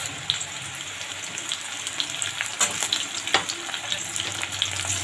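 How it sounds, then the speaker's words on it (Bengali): Split green chilies fry in hot oil in a pan for a large hilsa fish recipe, a close, dense crackling sizzle with frequent small pops throughout. "এটাও একটুখানি ভেজে নেবো"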